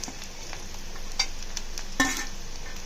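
Onions cook down in oil with a soft, even sizzle, broken by two or three clinks and scrapes of a spoon stirring the pan, nearby and fairly quiet.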